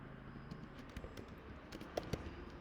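Keys on a computer keyboard click softly while a spelling error is corrected, a faint, sparse run of taps with a couple of sharper strokes near the end, heard at close range and with no voice.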